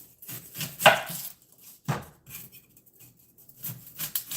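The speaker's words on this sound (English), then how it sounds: "the next thing we're going to do is cut up an onion" A kitchen knife chops a large onion on a wooden board, irregular close thuds and slicing scrapes spread across the stretch with short pauses, no talking.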